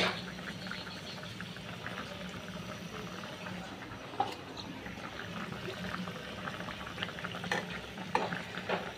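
Cumin seeds tempering in hot oil over a pangas fish curry with yardlong beans: a steady, moderate frying sizzle with a soft stirring texture and a few sharper crackles and pops, continuous for the whole stretch.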